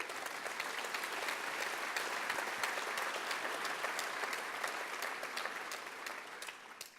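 An audience applauds a prize runner-up at an award ceremony during a conference plenary session, a steady wash of many hands clapping that fades slightly toward the end.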